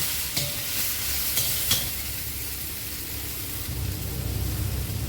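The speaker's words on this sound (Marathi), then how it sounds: "टोमॅटो आपल्याला असा मऊ होईपर्यंत भाजून घ्यायचा आहे" Tomato, onion, ginger and garlic roast in a pan for a Khandeshi dhaba-style shev bhaji, with a soft continuous sizzle, a few sharp spoon clinks early on, and steady stirring that grows louder toward the end.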